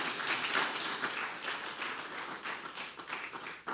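Seminar audience at a legal event claps for a speaker, a moderate, fairly quiet spell of applause with scattered individual claps heard throughout.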